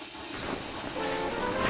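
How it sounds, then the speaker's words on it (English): A loud, continuous burst of hissing steam from the toy engine James in a Thomas & Friends scene, broadband and close, filling the whole moment without talk. "He was so scared he let out a huge burst of steam"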